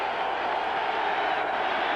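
Football stadium crowd at a Bengals at Jets game in 1992, a broad sustained roar of cheering voices, steady and loud throughout.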